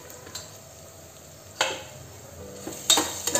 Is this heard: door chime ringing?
no